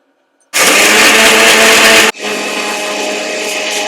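Mixer grinder whirring loudly as it grinds dosa masala with a little water, starting abruptly, running steadily, then dipping to a slightly lower, steady drone as the load changes; no talking.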